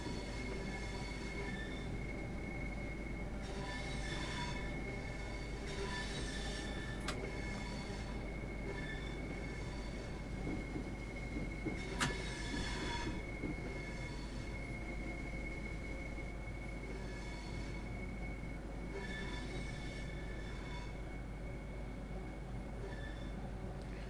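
Southeastern Railway train in Train Sim World 2, running toward Strood, with a steady rolling rumble, a constant tonal hum and repeated squealing bursts from the wheels, loud and continuous with no talk.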